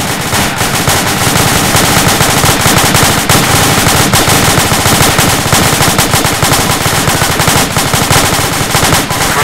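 Sustained automatic machine gun fire in the ArmA military video game, loud dense bursts of rapid shots running continuously throughout with no pauses or talk.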